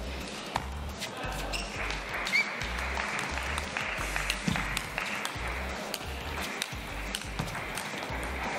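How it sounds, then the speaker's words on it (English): A crowd applauds at a table tennis match at the Polish Open, sustained clapping filling the hall at moderate volume, with faint rhythmic thumps and taps underneath. "Crowd in full applause mode right now."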